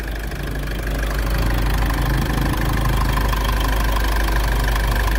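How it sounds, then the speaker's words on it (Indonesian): A 2017 Mitsubishi Triton HDX pickup engine idling, a steady, even mechanical hum with a constant low drone and no speech over it. "Kita dengarkan mesinnya secara langsung."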